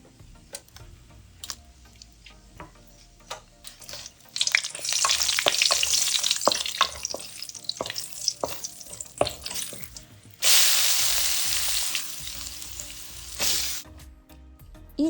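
Whole spices frying in hot oil in a pan for chicken curry: cinnamon stick, black cardamom, green cardamom, star anise, cloves and bay leaves. Close, steady sizzling with scattered sharp crackles and pops, growing louder and denser in two bursts, no talking.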